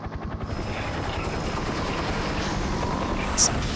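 Helicopter from the video game Parasite Eve, a steady rotor and engine drone running throughout under talk from several voices, with a brief bright blip near the end.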